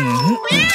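A cat gives a short, close meow in two rising and falling parts, clear and fairly loud.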